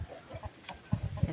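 Pet chickens in a roofed pen on a highland property give soft, low clucks, a handful of short calls spaced unevenly and fairly faint in a quiet setting.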